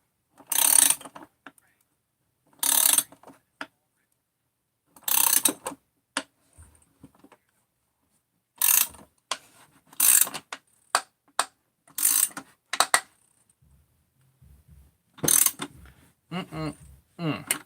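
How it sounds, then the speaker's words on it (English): A puller tool drawing a crankshaft through the bearing in a 372 crankcase, heard as repeated short, sharp ratcheting clicks in separate bursts with silent pauses between them. "all you're doing is pulling the crank through the bearing that is already in the crankcase."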